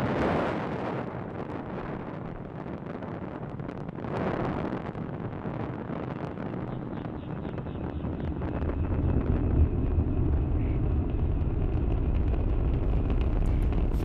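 A SpaceX Falcon 9 lifting off from Launch Complex 39A with 53 Starlink satellites, a steady broad rumbling roar with wind buffeting, swelling in low-end power toward the end, distant but loud and continuous.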